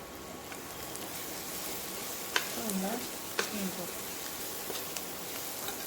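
Onion, ginger-garlic paste and turmeric sizzle steadily in a hot pan for egg gravy, with a few sharp clinks and stirring scrapes, while a voice talks softly over it.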